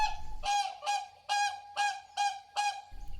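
Mute swans call in a series of six loud, nasal honks, evenly spaced and close by, with quiet gaps between them.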